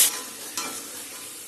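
Spice paste sizzling in a pan with cumin seeds already fried, a close hissing fry with a brief stirring scrape just past half a second, then a steady sizzle.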